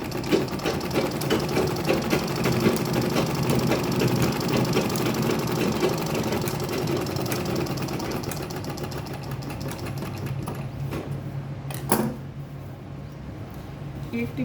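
A sewing machine runs steadily while stitching a makeup bag, giving a close, continuous mechanical whir and rattle that stops near the end, followed by a sharp click and quieter handling sounds.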